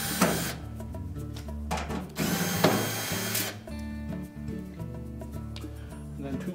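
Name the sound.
removing screws from washer back panel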